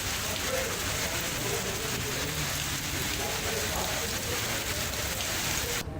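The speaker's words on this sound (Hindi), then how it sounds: "जगह जगह बारिश हो रही है।" Rain falls steadily as a dense, constant hiss of drops on surfaces. It is loud and unbroken, then cuts off abruptly just before the end.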